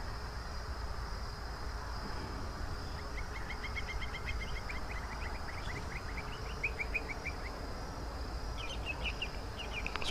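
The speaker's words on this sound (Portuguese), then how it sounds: "Passarinho aqui" Faint, high chirping trills from a small bird sound outdoors during a drone test flight, coming in short bursts partway through and again near the end over a steady background hiss.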